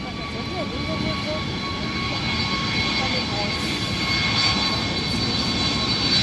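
The Zero-G Airbus A300 jet taxis on the runway at the ILA Berlin Air Show 2012, giving a loud, steady engine roar with high whining tones that holds constant and slightly swells near the end.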